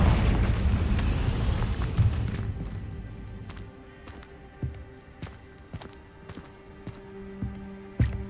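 A Confringo spell explodes in the video game Hogwarts Legacy: a loud rumbling blast that fades over a few seconds, followed by quieter scattered footsteps and small thuds.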